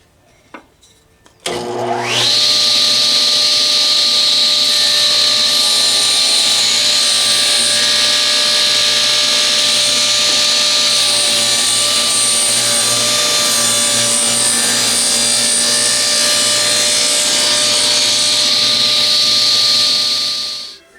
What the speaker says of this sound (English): let's cut this little rabbet about an inch or so high